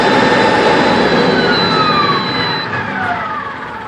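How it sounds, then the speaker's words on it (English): A Kohler generator engine shutting down: a loud, close broadband roar with whining tones that slowly slide downward as the engine winds toward a stop, the noise easing slightly at the end. "engine will come to a stop."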